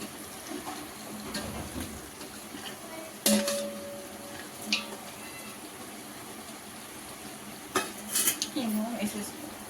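Mutton keema mixed into oil and yogurt masala in a pot: spoon clanks and scrapes against metal over a low simmering hiss, with a couple of sharper knocks and a faint voice at moments.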